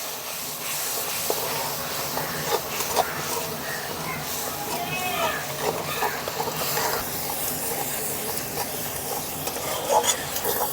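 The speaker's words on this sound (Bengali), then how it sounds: "মশলাটাকে এখন কষিয়ে নেব।" Masala of turmeric, salt and a little water frying in a wok for a bean and potato curry, a continuous hissing sizzle with intermittent stirring scrapes, close and even.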